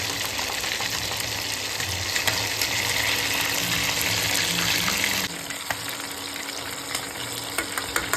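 Chicken frying in a pan for hotel-style chilli chicken over low heat, a steady dense sizzle running throughout with occasional stirring scrapes, close and fairly loud, with no talking.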